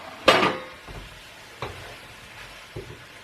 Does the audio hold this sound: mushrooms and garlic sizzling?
yes